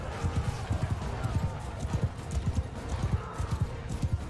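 Horses gallop away in Bannerlord, a steady rhythmic clip-clop of many hooves, fairly close and regular, with occasional faint whinnies beneath a low background hum.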